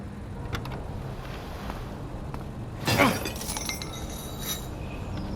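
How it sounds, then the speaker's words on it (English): A lock smashed on an airport landing strip gate: one sharp, crashing break about midway through, set over a steady low rumble. "Mateo smashed a lock on the landing strip's gate"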